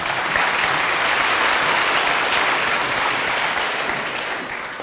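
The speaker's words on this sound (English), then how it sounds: "Round of applause, please." Loud, thick applause from an audience at a lightning-talk session, many people clapping steadily before tapering off slightly toward the close.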